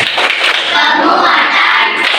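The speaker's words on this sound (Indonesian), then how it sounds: "Sekarang tepuk berlima." A group claps together in a brief, bright, dense burst of hand claps. The individual beats of a five-beat pattern are not clearly separated.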